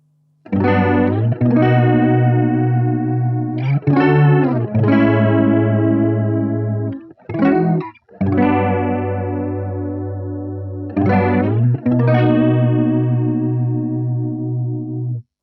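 A Behringer Chorus Symphony analog chorus pedal run through a single mono output shimmers over sustained, ringing guitar chords. The chords are struck several times with brief gaps between them, loud and steady, with no voices.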